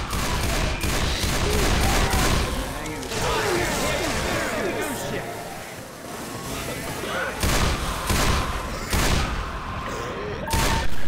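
Dense video-game gunfire in Left 4 Dead 2 on expert difficulty, with rapid overlapping shots, booms and crashes rolling continuously under players talking, loud and close.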